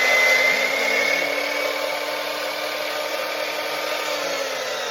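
A power saw, likely a miter saw, whines steadily and loudly up close after cutting 2x4 lumber for a bathroom bench build, its tone easing slightly as it winds down.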